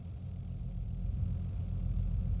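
A car engine idles steadily in the racing game BeamNG.drive, a low continuous rumble that holds even and fairly loud throughout with no talk over it.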